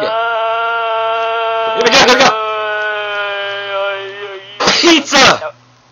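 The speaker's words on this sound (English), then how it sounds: "I just sneezed again." A person sneezes on purpose twice. Each sneeze is a short, sharp, close burst, about three seconds apart, over a steady humming drone.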